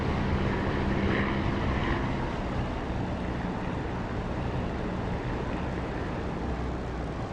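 Aircraft on approach to a runway in the DCS flight simulator: a dense, steady engine and airflow roar, loud and unbroken throughout, with no voices.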